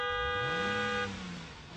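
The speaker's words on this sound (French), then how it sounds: "On va tout de suite terminer cette émission avec le coup de klaxon de la rédaction." A single sustained car horn blast from a French radio show's sign-off segment, loud and steady for about a second before cutting off, leaving a fading low engine-like rumble behind it.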